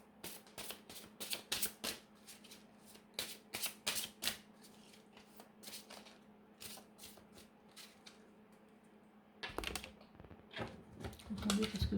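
Tarot cards shuffled for a reading, a run of quick riffling bursts in irregular clusters with short pauses, fairly close and moderately quiet.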